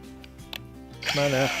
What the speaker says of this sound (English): So now we countersink the hole in preparation for putting in the stanchions with butyl tape